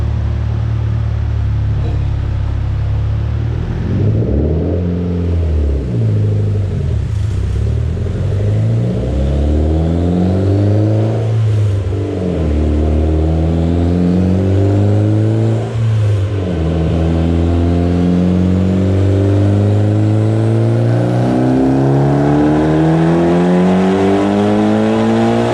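A Mitsubishi Evo X with a TRU 3582 spec turbo, 2150 injectors and a 3-inch intake, running on E85, revs hard through repeated rising pulls. The engine is loud and close, with no talk over it.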